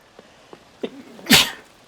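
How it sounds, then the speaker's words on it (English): A single light sneeze, short and breathy with a small sharp burst, close and clear, preceded by a few faint soft clicks in an otherwise quiet setting. "Wow, that was a sneeze."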